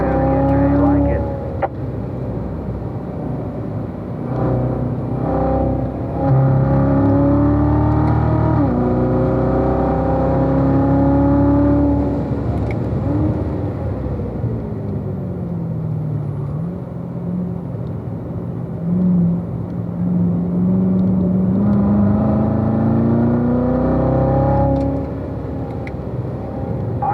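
Race car engine on a track, droning and rising and falling in pitch as the driver lifts off the gas and accelerates again, loud and continuous throughout, with speech heard over it.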